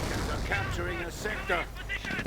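Gunfire and artillery from a WWII strategy video game as grenadiers take fire from a Sherman tank: scattered shots and booms mixed under continuous talk.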